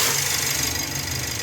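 A Mitsubishi L300 Euro4 van with a check-engine fault runs its engine, a steady close mechanical drone with a low throbbing pulse throughout, no voices over it.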